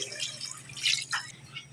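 Water splashes and gurgles as it is poured into a pot of pork tinola, close and moderately loud, with a few bright splashy bursts.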